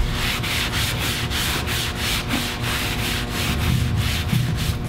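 Graffiti marker ink being buffed off a metal surface, a steady rhythmic rubbing and scrubbing with regular back-and-forth strokes, close and loud with no talk.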